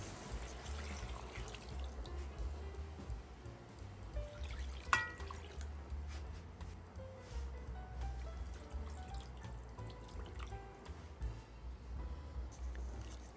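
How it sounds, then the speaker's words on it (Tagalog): Soy sauce and pineapple juice pour into a cooking pot of pork belly adobo, a soft, continuous trickle and splash with faint drips, quiet and close. "magdadagdag na tayo ng soy sauce at ng pineapple juice"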